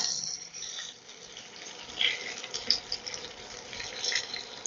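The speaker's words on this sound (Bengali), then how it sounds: "এই কাপের 1 কাপ জল প্রথমে আমি দিয়ে দিলাম।" A cup of water poured into a cooking mixture, a soft continuous splash and trickle with small bursts as the stream lands, close and moderately quiet, with no voices.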